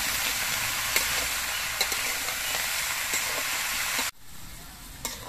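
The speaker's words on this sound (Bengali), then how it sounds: "এবার নুন দিয়ে লাউটা আবার নেড়ে চেড়ে মিশিয়ে নিতে হবে।" Bottle gourd with slit green chillies and salt is stirred in a hot pan, sizzling steadily with a few scraping clicks of the spoon before the sizzle drops away sharply near the end.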